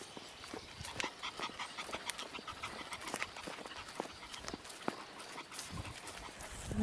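A dog pants at a 100-plus-year-old farmhouse, quick faint breaths repeating steadily in the open air with scattered outdoor noises around it.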